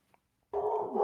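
A single dog bark rings out close and loud after a brief tick and a moment of silence.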